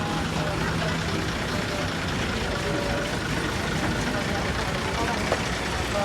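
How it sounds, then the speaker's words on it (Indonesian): Adhi Prima bus on a Hino RK260 chassis pulling away, a continuous low heavy engine drone with idling rumble throughout, steady and fairly close, under a faint background murmur. "untuk hari ini bus Adi Primanya langsung berangkat ya"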